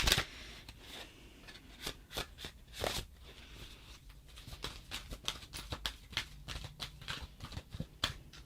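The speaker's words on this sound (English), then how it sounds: "I'm going to go ahead and pull a card for an answer for you." Tarot cards shuffled and drawn by hand, a run of soft, quick riffling flicks and taps close by at a quiet level, with no one talking.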